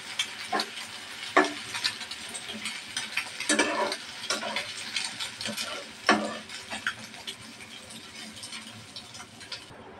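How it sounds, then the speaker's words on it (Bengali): Egg frying in a pan while noodles are being made, a soft background sizzle broken by sharp clicks and scraping stirs at irregular intervals, fairly quiet and close, no voices. "ডিমটা ভালোভাবে ভাজে নেব"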